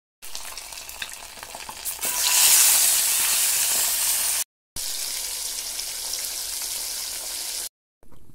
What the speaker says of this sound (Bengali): মাছগুলো কিন্তু অল্প করে ভাজতে হবে, বেশি ভাজা যাবে না